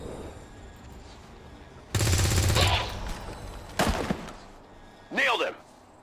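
Gunfire in the XCOM 2 video game: a loud burst of rapid automatic fire, then a shorter second burst, followed by a sweeping electronic tone, with game voices speaking in between.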